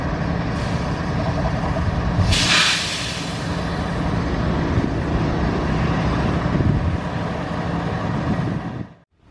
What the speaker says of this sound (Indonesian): Silahkan disimak kereta api Parsel persiapan berhenti di jalur 3 stasiun Bumi Waluya.